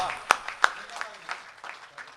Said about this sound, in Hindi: एक बार सारा सदन जोरदार तालियों के साथ।